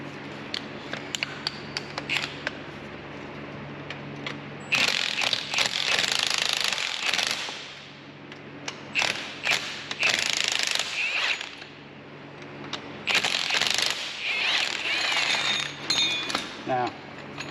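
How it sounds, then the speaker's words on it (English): Spring compressor clamps released on a car's suspension coil springs, heard as long bursts of loud rattling impact-wrench hammering that alternate with short clinks and taps of metal tools nearby. "I'm going to release the pressure on these spring clamps"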